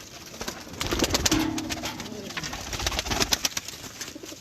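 A pigeon or dove coos nearby, soft repeated throaty calls over background rustling and faint human sounds.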